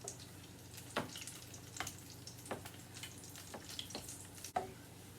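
Steady oil sizzle and crackle from chicken croquettes frying, with scattered pops and clicks over a continuous low bubbling hiss; no one speaks.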